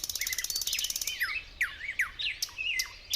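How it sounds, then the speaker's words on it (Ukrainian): A songbird sings nearby in a quiet setting, a rapid trill followed by a string of separate bright chirps and whistled notes. "Так, це пташка співає."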